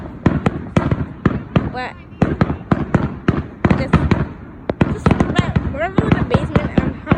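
Fireworks explode in a rapid series of sharp, loud bangs, some crackling and whistling, fired near a house during a patriotic celebration, while people talk and shout between the blasts.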